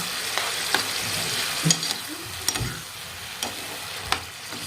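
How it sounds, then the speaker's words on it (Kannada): Tomato masala fries in a pan for pasta, giving a soft, steady sizzle, with occasional sharp scrapes and clinks as a spoon stirs it, close by and without talk. "ಟೊಮ್ಯಾಟೊ ಪೂರ್ತಿ ಹಸಿಸ್ಮೇಲೆ ಇರುತ್ತಲ್ಲ ಅದೆಲ್ಲ ಹೋಗೋವರೆಗೂ ಮಿಕ್ಸ್ ಮಾಡ್ಕೊಳ್ಳೋಣ"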